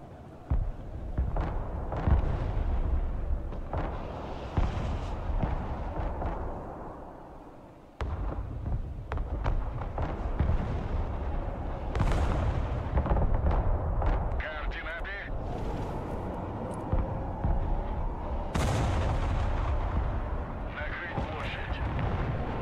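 Artillery fire from the video game Broken Arrow thunders in repeated deep booms and blasts across a long stretch, layered with battle noise while a player talks.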